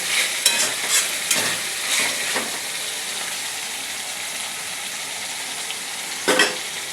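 Onion and spices fry in a pan with a loud, steady hiss of hot oil, a few spatula strokes near the start and another scrape toward the end.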